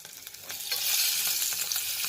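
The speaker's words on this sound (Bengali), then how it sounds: "সামান্য একটু হলুদ দিয়ে প্রথমে আলুটা একটু ভেজে নিব" Boiled potatoes with turmeric frying in a pan, a bright hissing sizzle that swells and stays loud with soft stirring scrapes, close up and without talk.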